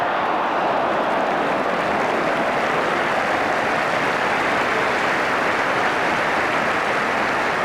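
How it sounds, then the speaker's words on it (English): A White Hart Lane football crowd applauds at a Spurs v Wolves match, a steady, dense roar of clapping that holds evenly loud throughout without a break. "Total appreciation for the White Hart Lane crowd."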